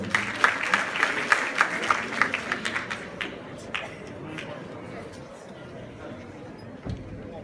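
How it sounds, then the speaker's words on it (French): An audience at an awards ceremony claps loudly for the hostess, a burst of rhythmic applause that thins out after a few seconds into low room murmur. "On peut applaudir l'hôtesse également."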